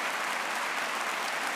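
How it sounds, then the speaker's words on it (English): Audience applause for a show's sponsor, a dense, even wash of clapping heard faintly and briefly with no other sounds. "give him a round of applause for, sponsoring the show"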